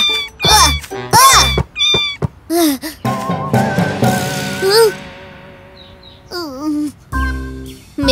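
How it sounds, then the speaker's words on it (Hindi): Cartoon kitten stuck in a tree: a quick run of high, bending meows, loud and close, broken by short gaps and one longer wavering cry in the middle. "अंदर कोई बिल्ली है?"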